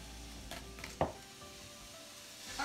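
Onions frying in a pan as they are cooked down for caramelized onions, giving a soft, steady sizzle with a brief stirring scrape near the middle; fairly quiet and close, with no voices.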